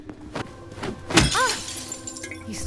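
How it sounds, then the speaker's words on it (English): Glass windows shatter in the Silent Hill 2 video game: a loud, sharp crash of breaking glass with scattered tinkling shards, preceded by a couple of dull thuds, with no talking. "Either start smashing windows or get out of my way."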